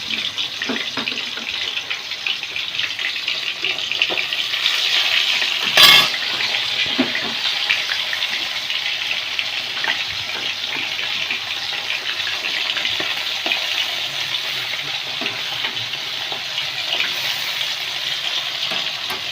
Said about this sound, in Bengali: তেল গরম হয়ে গেছে এবার একটা একটা করে মাছ আমি তেলে ছেড়ে দেবো মাছটা ভেজে রেখে দেবো